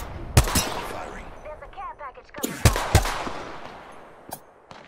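Gunfire from the Apex Legends battle royale game, several sharp shots popping in short bursts amid game effects, with voices talking over the action.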